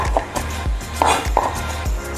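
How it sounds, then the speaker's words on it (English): Knife blade tapping and scraping across a cutting board while chopping leftover grated garlic in a home kitchen, a series of about six sharp close knocks in steady rhythm with no talking. "I just tap that and I grab this and just run my knife through"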